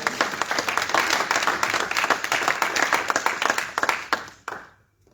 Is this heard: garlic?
no